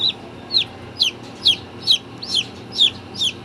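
A newly hatched free-range heritage chick peeps sharply and repeatedly, about eight regular cheeps in a steady rhythm, close and clear over a faint background hum.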